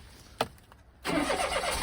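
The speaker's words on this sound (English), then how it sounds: "So we're going to go ahead and start the car." A 2007 Daihatsu Tanto L350S kei car with a faulty ignition coil and misfire cranks briefly, then its engine catches and settles into a steady, slightly rough idle, close and clear.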